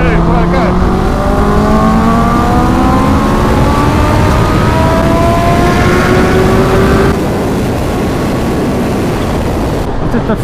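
Motorcycles accelerate hard in 4th gear from 5,000 revs, loud engine notes climbing steadily in pitch for about seven seconds before easing into a lower, steady drone, with wind roar throughout.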